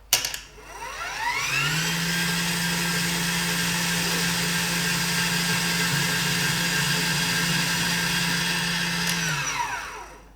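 An electric apple peeler and slicer gadget switches on, its motor whirring up fast into a steady, loud whine that holds for about nine seconds before spinning down.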